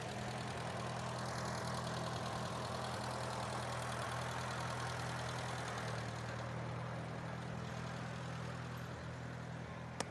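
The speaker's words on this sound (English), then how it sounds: "Old Case tractor and a Bonnie and Clyde car here." An old Case tractor engine idles at a small-town corn carnival parade, a steady low rumble that holds throughout with an even, continuous drone.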